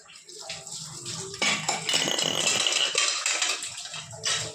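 Water runs and splashes over brass lamps being wetted down, mixed with clinking and knocking of the metal pieces against each other and a basin, close and fairly busy, with no one talking.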